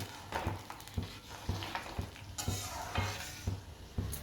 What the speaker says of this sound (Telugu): ఇలా మరుగుతున్న దాంట్లోనే మనం ఉప్మా రవ్వ వేసుకొని కలుపుకోవాలి